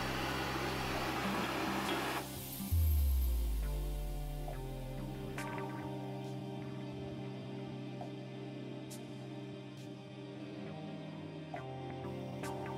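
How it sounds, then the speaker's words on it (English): A central vacuum sweep inlet in a kitchen sucks up debris, a steady whooshing suction drone that begins loud, then eases into a quieter hum with faint clicks, no voices. "the clever gizmo in the kitchen lets you just sweep up and then sucks it straight"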